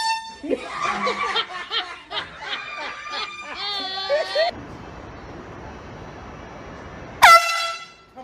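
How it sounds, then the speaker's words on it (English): A loud air horn blasts near the end, a sharp harmonic honk lasting about a second, after a stretch of people talking and laughing. "Don't honk that thing."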